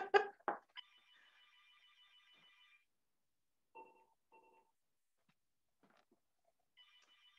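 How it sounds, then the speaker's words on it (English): A phone rings with a warbling electronic trill, a long burst then shorter repeated bursts separated by silence, faint and fairly clear, with a few brief knocks at the start. "it's also my phone is ringing"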